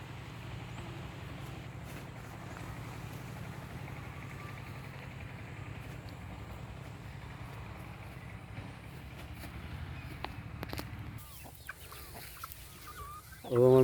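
An Aseel hen with six chicks clucks faintly on a farmhouse in Sylhet, Bangladesh, soft scattered calls in low outdoor background noise, with a louder bump at the very end.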